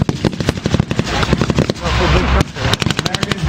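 Gunfire at a WW2 reenactment from MP40s, machine guns and K98K rifles: dense, irregular crackling bursts and single shots at close to middle distance, loud and continuous with a few brief gaps.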